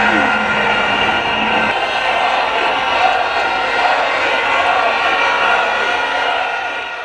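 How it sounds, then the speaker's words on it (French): A jubilant crowd greeting returning bronze medallists on a flatbed truck along an avenue, a dense roar of cheering with buzzing vuvuzela drones and whistles blending together, heard beneath a steady voice. "ils sont accueillis par une foule en liesse au son de vuvuzela et des sifflets"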